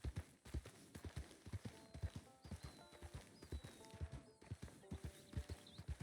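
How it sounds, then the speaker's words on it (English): A horse canters along a road in Red Dead Redemption 2, its hooves clip-clopping in a steady, close rhythm of repeated thuds, with brief whinnies over them. "When I do get her into a canter, she responds beautifully."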